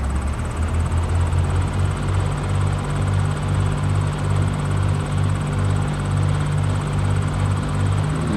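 Steady loud drone of a small propeller aircraft engine at full power in X-Plane, taxiing at Easton State airport, with a constant pulsing throb and no talking.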